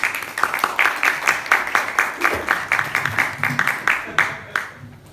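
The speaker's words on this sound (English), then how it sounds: "So would you please give a warm round of applause to Mr. Jerry Peterson." An audience claps steadily for several seconds, a dense patter of hands that tapers off toward the end.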